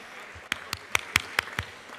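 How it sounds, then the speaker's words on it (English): Scattered hand claps ring out in a legislative chamber for visiting students, six separate sharp claps spaced roughly evenly, clear and close. "So if we could please give them a round of applause"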